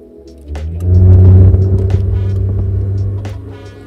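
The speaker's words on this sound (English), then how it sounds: "I got a hole in my exhaust." A car engine with a hole in its exhaust rumbles loudly with a rough, raspy, blatting note, heard with the windows up, rising after a quiet start and holding steady before easing off.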